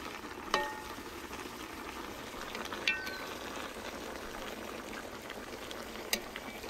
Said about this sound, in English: Time to check and stir the first variant of turkey.